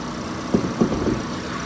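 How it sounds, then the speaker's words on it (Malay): The 1.5-litre engine of a 2019 Toyota Vios E idles with a quiet, even low hum, broken by a few soft rhythmic knocks. "buyer boleh dengar bunyi enjin tu senyap, tak ada masalah"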